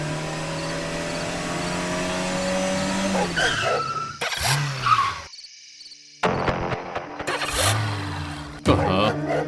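Cartoon car engine sound effects: the engine runs with squealing tires and skids, then sputters, stalls and cuts out in a short silence before more rattling and engine noise return, all loud and up close.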